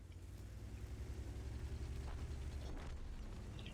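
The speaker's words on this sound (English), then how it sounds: "Oh look, artillery. Jesus Christ, the fucking artillery is fucking us up." Artillery fire in a video game battle rolls in as a continuous low rumble, with a couple of heavier bursts swelling partway through. The sound is fairly faint and distant, and no one speaks over it.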